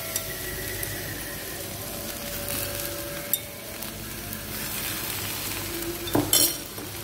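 A bread slice fries in ghee in a pan for French toast, hissing in a soft, steady sizzle at close range, with a couple of sharp utensil clinks.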